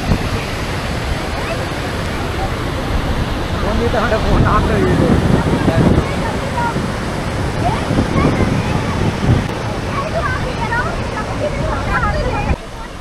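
Kunthala waterfall in Telangana roars as a loud, constant broadband rush of falling water, with a crowd's faint chatter mixed into it.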